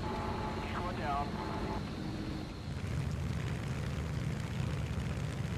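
Japanese fighter aircraft engine in War Thunder, a steady droning propeller roar with shifting pitch through a dogfight, heard under someone talking.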